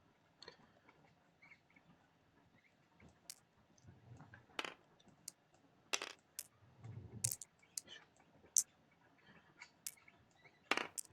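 Dice roll and clatter on a table during an Operation Overlord board game, sounding as scattered sharp clicks and rattles in short bursts over a quiet room, with no talking.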